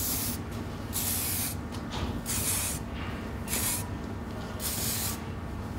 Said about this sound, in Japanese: こういうのスプレー系のワックスを